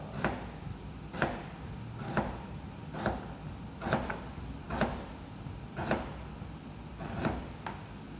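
Pears being sliced thin with a knife on a cutting board for an arugula salad, making sharp, evenly spaced chops about once a second, nine in all, close and clear with no talking.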